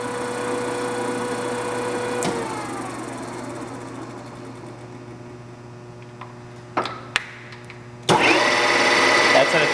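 Deckel FP2 milling machine spindle running at 125 RPM, a steady mechanical hum with faint ticking, a sharp knock partway through and louder clatter near the end.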